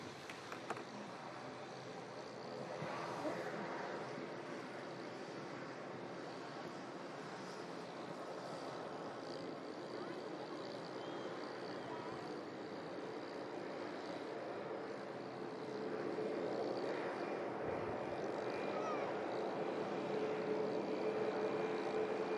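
A Gulf Air Boeing 787-9 Dreamliner in from Bahrain touches down at Manchester Airport during a storm, its engines a steady broad roar mixed with wind, at moderate distance and fairly faint throughout.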